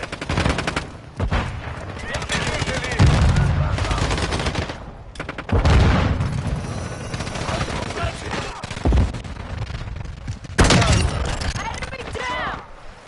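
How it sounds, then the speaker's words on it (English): Gunfire in the video game Modern Warfare 2, loud bursts of automatic weapon fire and rapid shots in close succession, with brief pauses between volleys and voices talking over the action. "I'm taking fire."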